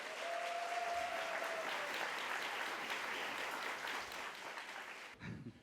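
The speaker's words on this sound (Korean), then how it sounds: "박수 부탁드립니다." A crowd applauds steadily and loudly at the opening ceremony of a youth mock trial competition, the clapping tapering off toward the end, where it fades out.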